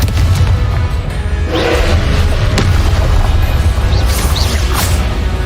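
Spell explosions from a Hogwarts video game, a Confringo blast giving a loud, sustained roaring boom with a few sharper bursts and whooshes layered on top, dense and continuous, with no voices.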